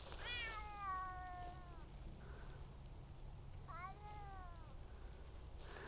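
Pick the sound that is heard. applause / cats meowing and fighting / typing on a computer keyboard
cats meowing and fighting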